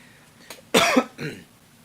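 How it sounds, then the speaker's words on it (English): A single sharp cough bursts out close to the mic, followed by a softer throaty sound, with quiet room noise around it. "my signature cough returns"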